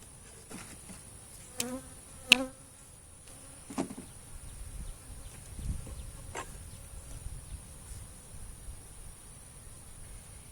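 Honeybees buzzing around an opened hive during an inspection: a steady, low insect hum fills the clip, broken by a few short sharp knocks and clicks near the start.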